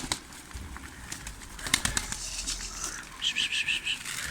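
Pigeons in an Ankara aviary, housed alongside cockatiels and budgerigars, give soft coos and brief chirps, with a quick flutter of wings. A few short, faint bird calls rise near the end over low background noise.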